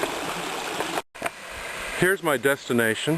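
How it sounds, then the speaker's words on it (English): A small waterfall on a creek trail rushes in a steady hiss, cutting out for a moment before a person starts talking over the continuing flow. "There's a little waterfall here. You can hear it."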